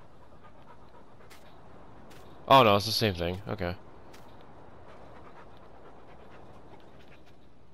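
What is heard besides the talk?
dog panting in the video game Farming Simulator 19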